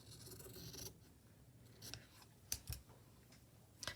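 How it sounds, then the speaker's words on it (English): Small scissors snip stitching thread during Kantha hand stitching: a few sharp, quiet clicks and snips close up, spaced irregularly, with faint fabric rustle between them. "grab my right scissors here, and I'm going to trim this down"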